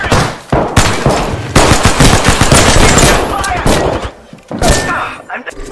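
Rapid automatic gunfire in the Apex Legends video game, loud and dense bursts of shots filling most of the moment with a short lull before a final burst.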